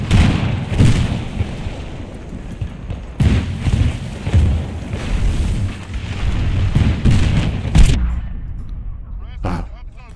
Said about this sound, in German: Jetzt auf einmal ein paar Schüsse und ich bin tot.